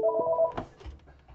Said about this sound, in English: Of course, there's going to be a phone call.